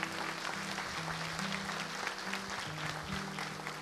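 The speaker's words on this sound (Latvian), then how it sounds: "aplausu jums, puiši." Audience applause at a Miss and Mister Balvi beauty pageant, a steady, dense wash of clapping from a large hall with a low musical hum underneath.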